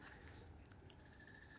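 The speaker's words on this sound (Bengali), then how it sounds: "ঝিঝি পোকা ডাকছে।" Steady high cricket trill on a quiet monsoon night, soft and continuous with a faint background hum, no voices.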